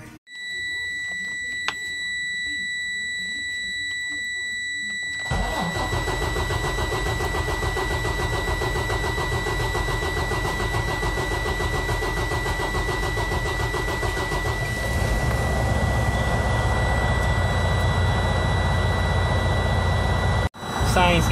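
A Freightliner Cascadia truck's large DD15 diesel engine, with a cam housing fault, cranks and catches around five seconds in, then settles into a loud, steady rumbling idle while a high electronic alarm tone whines continuously.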